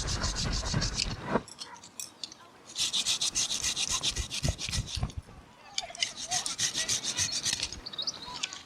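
A pruning saw works back and forth through fruit tree branches right at the trunk, giving bursts of rasping strokes close by with short gaps between them.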